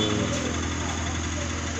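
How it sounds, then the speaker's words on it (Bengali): An RTR motorcycle engine with a failed crank bearing runs in a loud, steady drone, heard up close with a rough, constant mechanical rumble. "ক্র্যাশ বেয়ারিং যাওয়ার কারণে সাউন্ড দিছে, বিকট সাউন্ড।"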